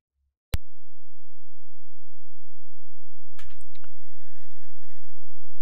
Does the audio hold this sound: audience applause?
no